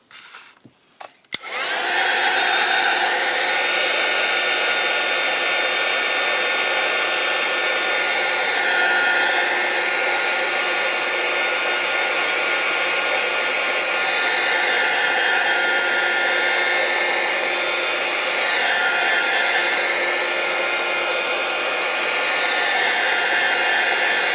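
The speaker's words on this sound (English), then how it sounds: "Now I'll give it a quick blast with the heat gun just to dry it off." A heat gun blasts continuously to dry a craft background made with PaperArtsy Mattint, a loud steady whooshing hum running unbroken for over twenty seconds after a brief click and start-up.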